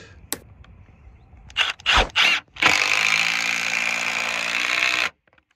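A screw is driven into a timber fence rail with a power driver: a few short bursts, then a sustained whirring drive that stops abruptly, close and loud with no talking.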